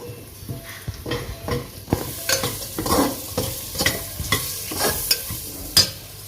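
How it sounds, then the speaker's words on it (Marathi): Sliced ivy gourd and green peas stir-fried in a pan over low heat, with steady sizzling and repeated scraping strokes of a spatula, close and moderately loud, with no talking. "हे दोन्ही सुद्धा टाकून छान परतून घेतो।"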